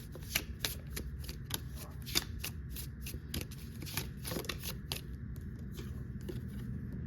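Healing oracle cards shuffled close up in a steady run of crisp riffling flicks with sharp snaps, no talking over it.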